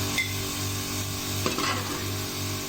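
Onions that have been lightly browned fry and get stirred in a pan for a beef pulao, giving a steady close sizzle with a scrape of the spoon partway through, and no voices.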